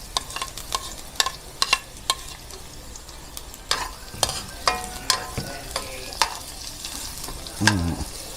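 Garlic sizzles with spices in a hot pan while being stirred, clicking utensil strokes and scrapes rising over a constant frying crackle, close and fairly loud.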